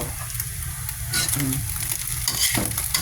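A chicken patty mixture is stirred as it fries in a pan, giving a steady, fairly loud sizzle broken by scraping stirring strokes, with no talking.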